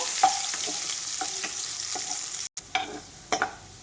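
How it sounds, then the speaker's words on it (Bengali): Pumpkin pieces frying in mustard oil, an even sizzle punctuated by several sharp spatula scrapes and taps, with a brief drop to silence midway before the frying sound returns. "কুমড়োগুলো আমি ভাজা করে নেব।"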